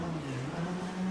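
MR18 race car in a racing game at Road Atlanta, clutch kicked to spin the tyres: a short burst of engine drone whose pitch dips and then climbs as the revs rise, close and steady.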